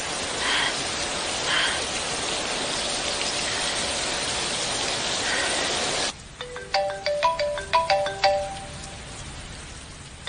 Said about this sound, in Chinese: 又是这个香菇夺命连环 call， 他快把我手机打爆了。